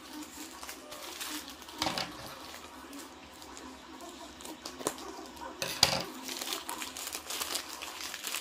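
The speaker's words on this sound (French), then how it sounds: "Donc, on va ouvrir ce colis." A parcel is opened by hand, with close plastic and paper packaging crinkling and rustling in irregular bursts and a few sharper tearing crackles, and no talk over it.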